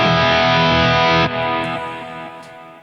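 Distorted electric guitar played through an Axe-FX amp preset with reverb and delay, a loud sustained chord that rings out, then a second strum decaying gradually with faint delay tails, no talking.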